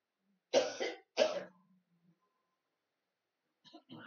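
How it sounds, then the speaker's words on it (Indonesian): Two loud, close coughs in quick succession from a man with mucus during a health therapy, followed by silence and then a few faint throat noises. "saya lagi terapi kesehatan, efeknya harus batuk"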